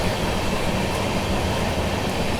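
The 12621 Tamil Nadu Superfast Express passes at speed on an Indian railway line, a loud sustained roar of wheels and carriages rushing by close, steady for the whole stretch.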